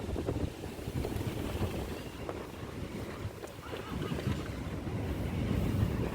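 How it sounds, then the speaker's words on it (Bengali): Strong wind blows along the bank of the Ganges, rumbling against the microphone in continuous gusts with choppy water beneath, fairly faint overall and building toward the end. "সেই রকম হাওয়া হচ্ছে গঙ্গার ধারে"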